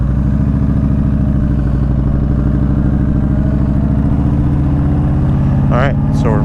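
Engine of a 2015 Yamaha V Star 1300 Deluxe cruiser motorcycle pulling in first gear, a loud, steady, close-up throbbing drone that rises in pitch toward the end.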